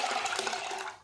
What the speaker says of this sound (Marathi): आता आपण याच्यामध्ये याच मापाने पाणी टाकून घेऊया.